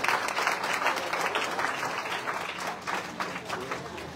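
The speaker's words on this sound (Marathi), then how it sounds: "जोरदार टाळ्या" Loud, sustained applause from a crowd at a prize-giving ceremony, dense clapping close up that slowly thins a little toward the end.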